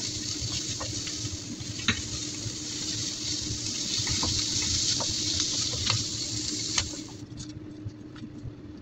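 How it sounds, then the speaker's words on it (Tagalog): Green and yellow chives pan-frying quickly in a wok, giving a steady, close sizzle with sharp scraping and stirring clicks scattered throughout and no voices. "Yung green at yellow chives, ipan-fry natin."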